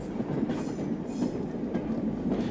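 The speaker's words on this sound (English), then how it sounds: "a Hampshire diesel-electric multiple unit clatters by" A Hampshire diesel-electric multiple unit clatters past close by, its loud, continuous rumble dense with rhythmic wheel clicks and rattling carriages from start to finish.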